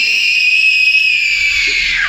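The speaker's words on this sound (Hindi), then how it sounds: "कितनी तेज चिल्लाता है, देख रहे हो आप लोग।" A child screams loudly in one sustained, piercing high shriek lasting about two seconds, close and without pause.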